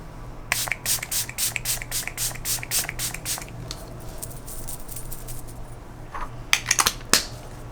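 Rapid bursts of a Rare Beauty setting spray pump mist onto a face, about a dozen quick hissing spritzes in a steady rhythm, close by, followed by a few more after a pause.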